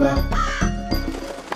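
A cartoon crow gives a short, harsh caw, loud and close, with a bright musical backing and a sung voice over it.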